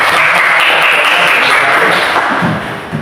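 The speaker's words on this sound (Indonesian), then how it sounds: "Beri tepuk tangan dulu untuk semuanya." A Grade 10 Islamic education class gives dense, sustained applause that fills the room loudly, then thins out and fades near the end, with no speech.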